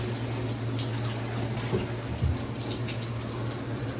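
Water runs steadily during the final rinse of short braidlocs in a hair wash, a continuous close hiss and splash with a low hum underneath and a couple of brief thumps.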